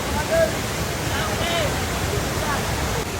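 Kamandag waterfall at Sitio Kamandag, Makilala, North Cotabato, a steady broadband rush of falling water filling the whole stretch, close and constant, with faint voices in the background.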